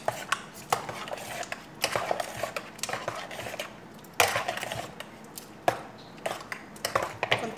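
A utensil mixes buko pandan salad in a bowl, making repeated clinking and scraping strokes against the bowl in an uneven rhythm, close and clear, with no talking.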